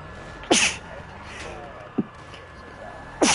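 Video game character sneezes in short sharp bursts, two loud ones with a small one between, over a quiet background hum.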